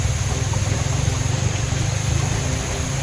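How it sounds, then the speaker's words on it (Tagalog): Several motorcycles passing by outdoors, a rumbling low engine drone that pulses steadily throughout at moderate volume, with no talk. "May mga motor dumaan."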